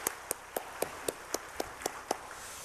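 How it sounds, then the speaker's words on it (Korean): Steady, evenly spaced claps at a Sunday worship service in a church, each one sharp and distinct, keeping a regular beat over a faint room hum with no voices. "우리 뜨거운 박수로 축하하십시다."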